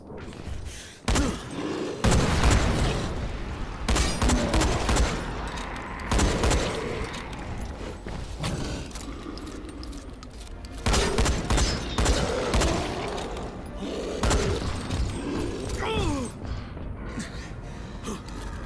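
Gunfire from the video game Dying Light 2 comes in repeated loud bursts of shots and impacts, spread across the stretch with gaps between volleys, alongside gasps and grunting effort sounds.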